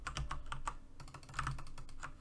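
A quick, irregular run of close keyboard key presses clatters while someone plays a Roblox soccer ball game, with about a dozen clicks and no speech.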